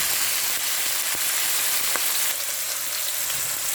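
Chicken breast sautéing with spices in a cooking pot, a loud, continuous, close-up sizzle that holds steady, with a couple of faint taps from a utensil.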